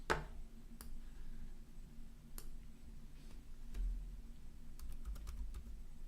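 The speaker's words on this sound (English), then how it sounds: "we are typing in English" Typing on a computer keyboard, a few sharp isolated key clicks spread across the stretch over a low steady room hum, fairly quiet and close, with no talking.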